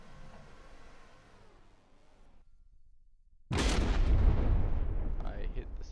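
A cram cannon fires in the video game From the Depths: a quiet stretch and a near-silent gap, then a sudden loud, booming blast that lingers as a heavy roar to the end.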